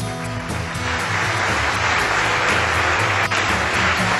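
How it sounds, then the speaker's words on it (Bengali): Applause from an audience at a Bangladeshi televised talent competition honouring category winners, a dense continuous wash of clapping that stays loud and steady throughout, with a faint tonal bed of music underneath. "এই সেরা প্রতিভাদের জন্য আবারও জোরে একটা করতালি।"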